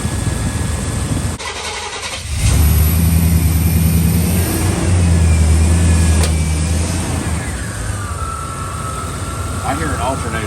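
A junkyard 1989 Chevrolet Suburban with a charging fault cranks briefly and catches. The engine then settles into a steady, close idle with a thin, high alternator whine running over it.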